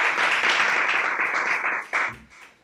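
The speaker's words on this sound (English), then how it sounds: "Let's have another round of applause." Audience applause at an awards ceremony during a digital summit livestream, a dense, steady wash of clapping that holds loud, then dips and swells once more before fading out near the end.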